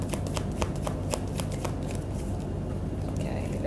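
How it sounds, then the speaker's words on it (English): Tarot cards are shuffled close up, a rapid run of crisp riffling flutters and slaps that continues steadily throughout. "Yeah, I shuffle differently."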